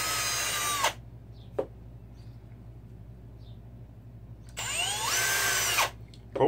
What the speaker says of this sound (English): when you drill, you got to go straight. Don't go like this because you'll break the bar in half